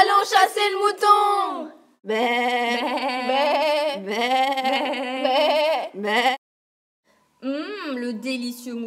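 Cartoon sheep bleat in a loud, wavering chorus of several drawn-out calls, with a short pause before a final bleat.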